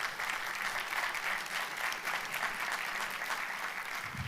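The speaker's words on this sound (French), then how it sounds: "Si vous le pensez, vous applaudissez." Audience applause at a talk on dietary supplements, steady clapping from many hands that carries on with little change for several seconds, heard alone and fairly faint.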